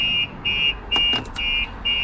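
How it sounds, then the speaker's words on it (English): An Audi R8 car alarm with a Starline S96 system beeps in a steady repeating pattern, loud and close, with short gaps between the tones. "it sets the alarm off"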